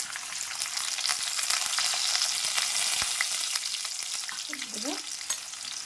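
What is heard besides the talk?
onions frying with urad dal, chana dal and cumin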